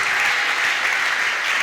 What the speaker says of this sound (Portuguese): Alguém pode aplaudir Jesus nessa sala?